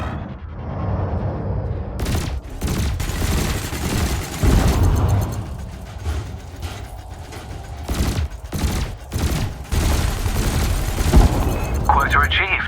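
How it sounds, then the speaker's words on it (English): Spaceship weapons fire in Elite Dangerous: Horizons, with loud bursts of cannon shots and rapid laser blasts in irregular volleys, over engine rumble and a spoken game voice. "your laser will fire until the capacitor is depleted,"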